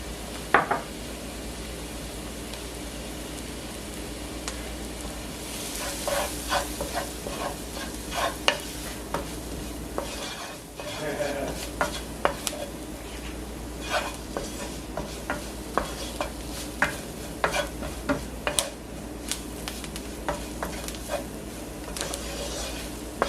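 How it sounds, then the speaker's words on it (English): Steady sizzling of a curry mixture with shrimp frying in a pan, with frequent scraping and clinking strokes as it is stirred and moved around, close and continuous. "I'm going to keep moving this around so the curry can burn."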